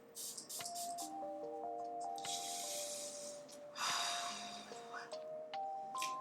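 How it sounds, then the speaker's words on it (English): Perfume sprays from a bottle in a couple of breathy hissing bursts over background tones. "let me spray this yet again"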